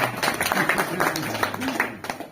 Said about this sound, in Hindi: तालियां बजा सकते हैं आप